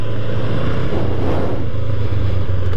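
A 2021 Honda CB 500X motorcycle riding on a highway, its engine a steady, loud, close drone with wind rush blended in, continuous throughout with no voices.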